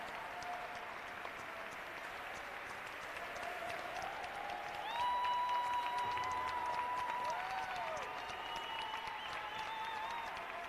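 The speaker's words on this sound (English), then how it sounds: "Let's hear a round of applause for your sole senior class representative, Thomas Lang." Crowd applause for a senior player at a men's college basketball home game fills the arena, a steady wash of clapping that swells midway, with faint cheers rising through it.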